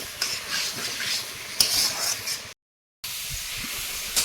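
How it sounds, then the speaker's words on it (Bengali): Fried potatoes with spices stirred in a pan, a spatula scraping in repeated strokes over a sizzling, hissing bed, briefly cutting out before the stirring resumes. "আলুর সঙ্গে মশলা একটু কিছুক্ষণ নাড়াচাড়া করে নিয়ে জল দেবো"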